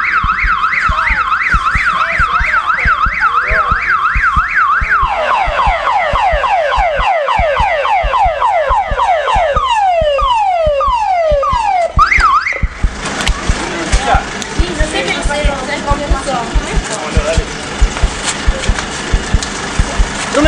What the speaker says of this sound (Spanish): ¡Ahí viene una ambulancia!